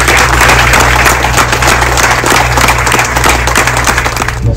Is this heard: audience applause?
yes